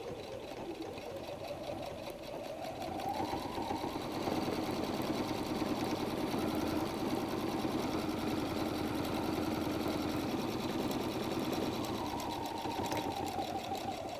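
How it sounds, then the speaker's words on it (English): A sewing machine runs steadily, stitching down the side of a messenger bag in one continuous hum that swells slightly louder midway, close and alone without voices. "now I'm going to sew down the other side"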